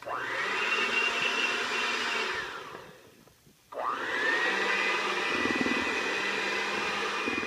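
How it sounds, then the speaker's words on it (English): An electric blender whirs loudly as it mixes an egg into chocolate black bean cake batter, running steadily for a few seconds, cutting out briefly, then starting up again at full power. "So in goes 1 egg, and then we blend."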